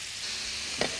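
Chicken pieces for a spicy chicken dish sizzle steadily in a pan, with a single brief clatter near the end as they are turned over.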